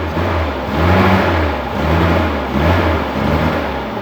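A Suzuki Carry engine running on a mix of petrol and LPG gas, a loud, close, steady hum with slow rises and falls in revs and no speech.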